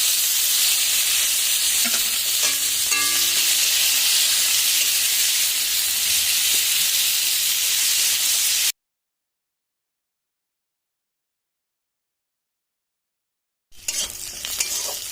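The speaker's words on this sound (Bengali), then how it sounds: "এবার আমি দিয়ে দিচ্ছি পেঁয়াজ কুচি।" Chopped onion sizzles in hot oil with whole garam masala and cumin for an egg curry, a loud steady frying hiss with a few stirring scrapes. Sound cuts to silence for about five seconds, then the sizzle returns.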